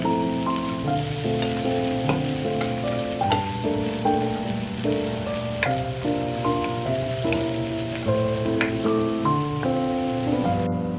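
Finely chopped onion sautéing in a pan, a continuous close crackling sizzle like light rain with occasional stirring, heard over soft tonal background music and no voices.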